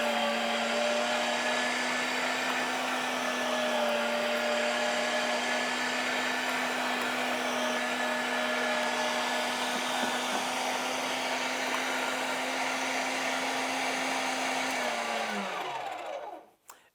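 An electric meat grinder grinds venison with a steady, close motor whine that holds even throughout, then spins down and stops right at the end.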